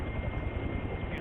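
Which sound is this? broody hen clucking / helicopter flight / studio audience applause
helicopter flight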